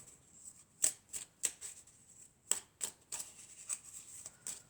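Oracle cards being shuffled by hand, a series of soft, crisp riffling flutters in uneven bursts of roughly a dozen strokes, close and quiet with no talking.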